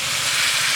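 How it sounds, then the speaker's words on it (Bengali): Water poured into a hot pan of Bengali potato curry gives a brief, loud, even hiss of steam and bubbling. "জল দিয়ে দেবো।"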